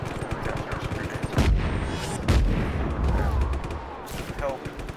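Grenade blasts in the video game Just Cause 3 boom in two heavy bursts amid crackling gunfire-like game noise. The rumble swells and fades over a busy, continuous action soundscape.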